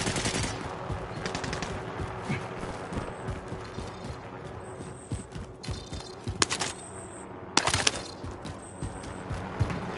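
Rapid bursts of automatic gunfire and sharper blasts ring out in a video game firefight, dense and continuous across the whole stretch, with occasional louder explosive shots standing out.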